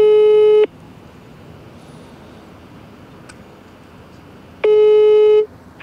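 Telephone ringback tone heard while waiting for an answer: two loud, steady beeps of under a second each, separated by several seconds of quiet line hiss.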